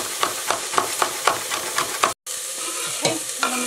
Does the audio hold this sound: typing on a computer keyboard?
no